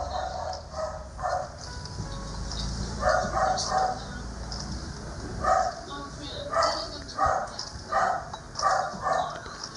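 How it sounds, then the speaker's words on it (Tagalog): Dogs bark repeatedly in the background, a run of fairly faint, rhythmic yaps spread across the whole stretch under a low rumble. "Kung may narinig kayo sa background na to, mga tahol na aso"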